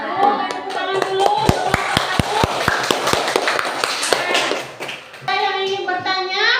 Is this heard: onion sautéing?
no